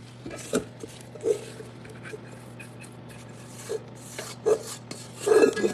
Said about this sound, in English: You know me, you gotta scrape the bowl.